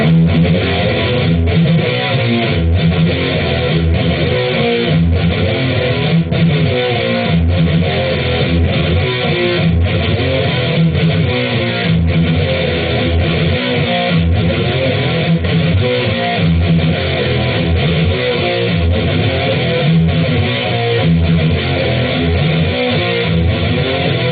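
A driving electric guitar riff repeated in a steady rhythm, loud and close, with a band-limited, slightly muffled tone and no talking.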